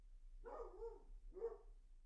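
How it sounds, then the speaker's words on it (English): A small dog gives two short, soft, muffled barks about a second apart, faint and distant against a quiet background. "I'm going to assume that little bark there was Copper agreeing with me"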